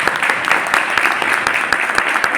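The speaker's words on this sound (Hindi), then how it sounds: "अपने अपने अपलाइन के लिए जोरदार तालियां बजाएं" An audience at a network marketing meeting in Punjab claps loudly and continuously, with sharp individual claps standing out from the dense, close applause throughout.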